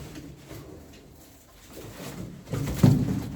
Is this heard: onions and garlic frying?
no